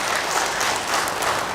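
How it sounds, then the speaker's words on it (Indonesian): Audience applause at an indoor presentation about organic fertilizer: a dense, steady burst of many hands clapping together, loud and close, sustained without a break. "beri tepuk tangan dulu untuk Pak Roni Wijaya ya."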